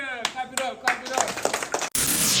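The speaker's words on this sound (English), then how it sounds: "Let me get 2 claps and a oh yeah." A handful of sharp hand claps ring out on a radio show, spaced a fraction of a second apart and mixed with lively voices, then a brief dropout gives way to a loud wash of noise.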